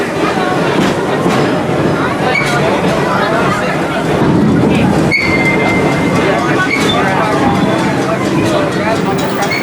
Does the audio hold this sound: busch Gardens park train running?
yes